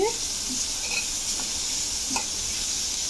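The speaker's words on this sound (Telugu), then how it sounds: "క్యారెట్ తురుము వేస్తున్నాను. ఇలా కలిపేసుకోవాలి." Grated carrot stirred into a hot pan for carrot curry, giving a steady close sizzle and hiss with a couple of light stirring scrapes.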